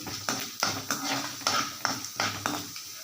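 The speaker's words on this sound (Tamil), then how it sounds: "கடுகு பொரிய ஆரம்பிச்சிருச்சு கடலப்பருப்பு போட்டுக்கலாம்" A metal spoon stirs and scrapes a pan where mustard seeds and chana dal fry in oil, giving rhythmic clinking strokes roughly every half second over a soft frying hiss, close by and without speech.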